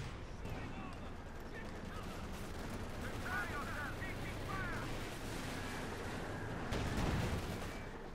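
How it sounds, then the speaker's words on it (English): Vickers machine gun fire and other battle sounds from Company of Heroes 2 rumble as a dense, low, continuous barrage of distant gunfire, faint and steady, with a brief louder swell near the end. "Vickers firing where they go."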